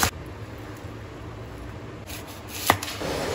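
An onion chopped lengthwise on a cutting board, with a few sharp knife strikes at close range over faint background hiss.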